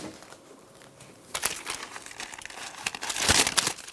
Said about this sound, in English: Now carefully remove the tape from the window.